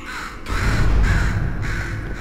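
A bird caws repeatedly in the video game Portal 2, harsh crow-like calls in a steady sequence, close and clear with no talking over them.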